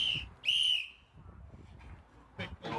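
A referee's whistle at a strongman competition gives two short shrill blasts, close and clear, followed by crowd noise and faint voices.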